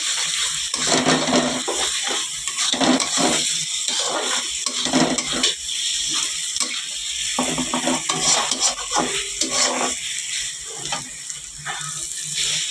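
Spices frying in a small amount of oil in a pan for a fish curry, with continuous sizzling and intermittent stirring scrapes in an irregular rhythm, close and fairly quiet.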